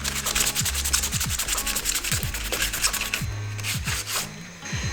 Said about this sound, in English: So I kept washing, filling and sanding until I got a smoother result.